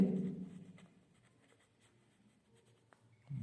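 A pen scratches out an equation by hand during a quadratic-equations math lesson, a soft, close stroke sound that is loudest at the start and then fades to faint taps.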